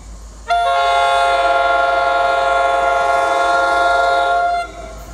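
An NJ Transit train led by a GP40 locomotive doubleheader passes the Ho-Ho-Kus, New Jersey station, blowing a loud, close, sustained multi-tone horn for about four seconds before it cuts off, with faint rumble beneath.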